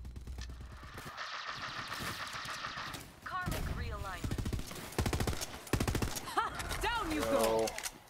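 Rapid automatic gunfire from a weapon in the video game Borderlands 3 rattles in loud bursts, mixed with game sound effects and someone talking over the action.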